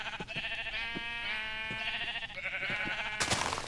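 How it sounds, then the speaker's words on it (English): Repeated sheep bleats from the Minecraft video game, wavering and nasal, running steadily through the whole stretch with a brief burst of noise near the end. "Come here, Mr. Sheepy."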